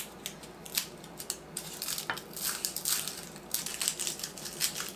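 A knife working at the tough root end of a garlic bulb in a home kitchen, giving close, scraping, clicking cuts in uneven bursts against a faint steady background hiss, with no talking.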